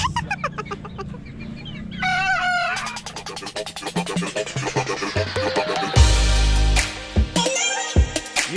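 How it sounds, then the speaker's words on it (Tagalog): Roosters, a Boston Roundhead among them, crow repeatedly up close, with loud drawn-out calls and clucking in between from the birds on the ground. "Tumitilaok na mga guys."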